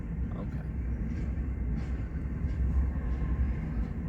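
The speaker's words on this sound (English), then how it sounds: "this train gets backed into the yard right here in Fremont" Train in the rail yard at Fremont, Nebraska, backing in: a continuous low heavy rumble with faint higher clanks at intervals, steady and moderately loud.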